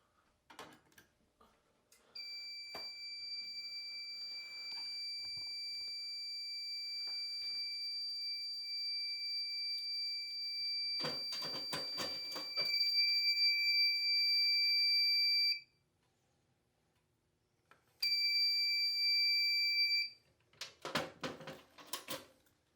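A Fire-Lite MS-2 fire alarm system with a System Sensor i3 expansion in test: a steady, piercing high alarm tone sounds for long stretches, cuts out briefly and resumes, with clattering horn pulses and faint room noise between.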